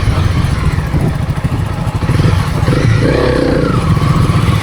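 A motorcycle rides with its kickstand down, a steady loud engine drone with clattering, low rumble throughout and a brief rising tone near the end.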